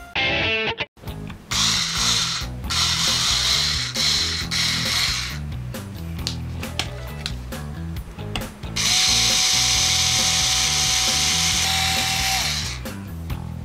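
Electric screwdriver fitted with a small drill bit boring 1 mm holes into Mentos candies, a whirring motor in short repeated bursts with ratcheting clicks, ending in a longer steady high-pitched run, close and loud.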